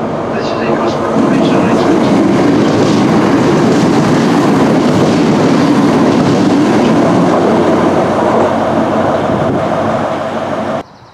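A train on the Highland Main Line pulls out of a station, a steady loud rumble of wheels and carriages with faint rhythmic clatter, sustained for about ten seconds before cutting off abruptly.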